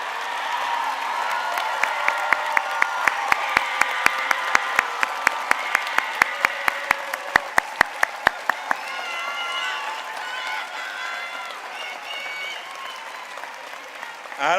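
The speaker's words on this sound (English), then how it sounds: "let's give them a round of applause." Commencement ceremony audience applauds and cheers in a sustained crowd roar, with sharp individual claps and shouts standing out over a steady wash that swells again near the end.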